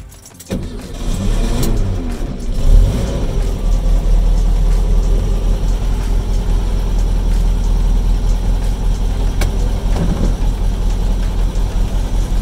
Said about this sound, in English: It's just a case of starting the car and trying it out, really.